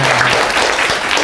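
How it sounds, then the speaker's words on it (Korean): A workshop lecture audience applauds in a brief, loud burst of dense clapping from a crowd. "박수 칠 타이밍이 아닌데?"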